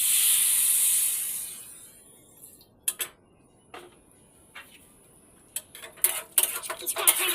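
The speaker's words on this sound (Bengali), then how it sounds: "এবার এখানে আমি এই সবগুলোকে কষানোর জন্য অল্প পরিমাণ জল দিয়ে দেবো।" Water poured into a hot pan of masala for paneer ghugni, a loud burst of sizzling hiss at first that quickly fades, followed by scattered faint crackles and ticks as the spices simmer.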